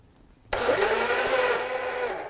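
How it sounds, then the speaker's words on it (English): A blender starts abruptly and whirs continuously, blending apple and banana into a smoothie, a loud steady motor roar with no talking. "Me and this beautiful blender are not always best friends, but hey."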